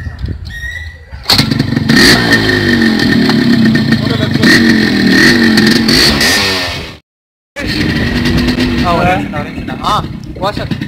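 A Yamaha RX100 motorcycle two-stroke engine revs hard nearby with a crackling, blasting exhaust. Repeated throttle blips are followed by a brief cut and then more revving.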